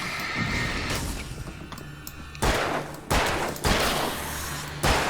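Bursts of gunfire at enemies in the video game Alan Wake, several loud sharp shots spaced across the moment over a steady game background, with no talking.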